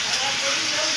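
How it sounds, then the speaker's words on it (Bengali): Green mango and tomato chutney boiling in a pan, a steady loud hiss of bubbling liquid throughout the short moment. "দেখুন জল দিতে না দিতে ফুটেও গেছে।"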